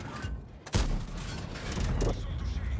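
The AMX 50B tank's main gun fires in a tank battle video game, a single sharp loud boom followed by rumbling battle noise, with a voice talking over it.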